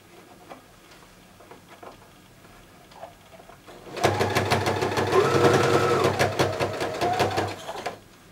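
A sewing machine stitches the seams of a Kachera made from layered fabric, starting after about four seconds with a loud, fast, steady run of needle clatter that continues until near the end, following quieter rustling and handling noises.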